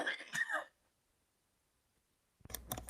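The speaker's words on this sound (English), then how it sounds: "I'm going to cough." A person coughs and clears their throat close to the mic, a short rough burst, then a pause of near silence, then a second brief cluster of harsh throat sounds.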